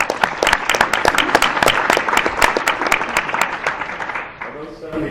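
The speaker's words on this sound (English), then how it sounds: "I'd like some applause for those folks." Audience at an annual meeting claps for the volunteers, a lively burst of many hands in a brisk irregular patter that tapers off toward the end, with a voice emerging as it fades.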